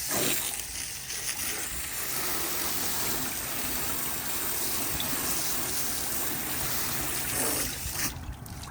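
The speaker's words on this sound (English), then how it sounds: "we are gonna give it a good spray down with some water" Water sprays steadily against a boat hull in a continuous hissing rush, close by, fading slightly near the end.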